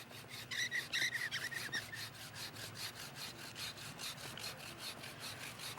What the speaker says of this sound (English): I'll get some action shots of Greg sawing down the tree